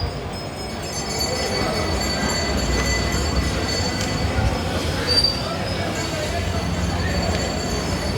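A train at Madgaon railway station in Goa rumbles steadily, with high wheel squeal and metallic rail noise over an overcast platform's ambient bustle.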